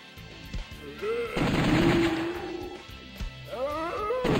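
Gunfire in The House of the Dead arcade shooter, with repeated loud game shots in bursts, dense with game sound effects and music, plus short rising electronic tones near the end.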